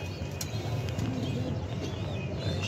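Pigeons in a loft give soft, low cooing, steady and close, with faint rustling and a few light taps around them.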